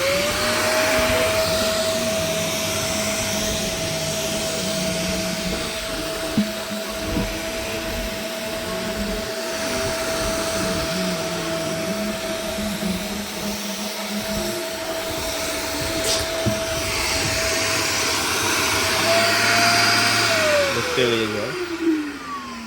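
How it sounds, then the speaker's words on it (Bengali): A water tank cleaning machine runs steadily and loudly throughout, a droning motor hum with a sustained whine that holds then drops as it winds down near the end, with a voice briefly speaking over it. "দেখতে পারো আমাদের মেশিন চলছে এখন।"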